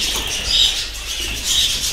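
Budgerigars in breeding cages chirp and chatter in two bright bursts, close and fairly loud, with a soft steady background beneath and no speech.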